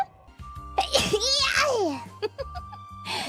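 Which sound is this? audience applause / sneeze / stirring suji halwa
sneeze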